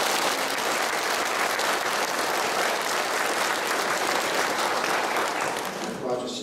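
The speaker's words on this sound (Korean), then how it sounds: "다시 한번 감사의 박수 크게 보내드립니다" Loud, dense audience applause of thanks after a Lenten special lecture by a Catholic priest, sustained and even throughout before tapering slightly at the very end as a voice begins.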